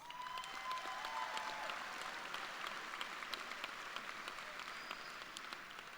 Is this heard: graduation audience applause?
yes